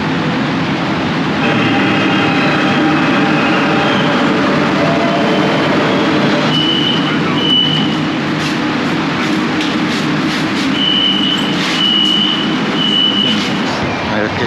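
A subway train rumbles steadily throughout, with a loud broadband roar, squealing tones and faint voices mixed into the constant noise.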